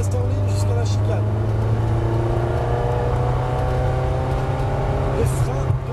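A car accelerating hard on the Circuit du Laquais race track, its engine note climbing steadily and droning loud and close throughout.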